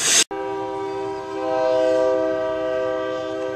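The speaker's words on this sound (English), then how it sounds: "this is something you don't see very often. It's a passenger train" A passenger train sounds its horn as it passes: a loud, sustained multi-tone blast that cuts in abruptly after a brief gap and rings on steadily, swelling slightly midway, with rumbling rail noise underneath.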